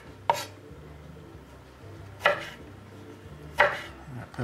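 A knife chops vegetables such as onion and tomato on a cutting board for a bacon and cheese omelet: three separate, crisp, close knife strikes spaced a second or two apart, over a quiet kitchen background.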